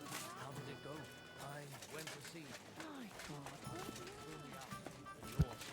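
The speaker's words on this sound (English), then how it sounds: "Where does this horse go?" Horse hooves clip-clopping in the video game Kingdom Come: Deliverance 2, a steady rhythmic trot heard under game music and ambience with a faint thump near the end.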